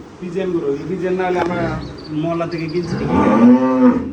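A Holstein Friesian dairy cow on a farm moos several times, long drawn-out lowing calls, the last one loudest and closest, with a faint voice in the background.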